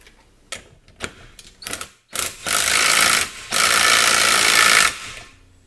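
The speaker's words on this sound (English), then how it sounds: "I just get it started with this little impact wrench" A small impact wrench spins up bolts on a car's AC and heat system install, with short bursts and clicks followed by two long, loud, steady rattling runs close by.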